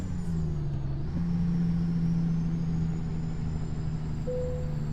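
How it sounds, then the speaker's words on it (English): A heavy Kenworth T660 truck engine in American Truck Simulator idles in a continuous low drone, steady and close, with a faint higher whine running along above it. "the other engine sounds"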